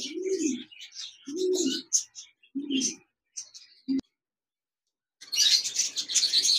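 Lutino red-eye budgerigars chirp and chatter in a cage in short bursts with pauses, with a brief click and then a denser burst of twittering at the end.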